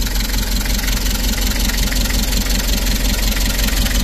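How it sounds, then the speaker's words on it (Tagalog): A 1997 Toyota HiAce engine ticks over at idle, a steady, loud, even mechanical drone with a fast regular pulse, heard close up and continuous, with no talk. "Ganda pa ng tunog ng makina."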